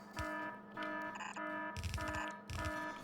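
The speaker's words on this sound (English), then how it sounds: "I didn't use different alarm sounds" An alarm in the video game Factorio sounds as quiet bursts of chiming electronic beeps. It repeats in roughly four pulses spread evenly across the stretch, with no talking.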